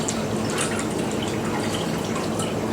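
Cold water is poured into a container of hot water, giving a continuous splashing, trickling pour with no pauses, close and fairly loud.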